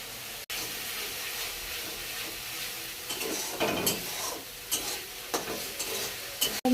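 Fried spices being stirred in a pan with sauce poured in, low scraping and sizzling with a few sharper stirring knocks toward the end, close and fairly quiet.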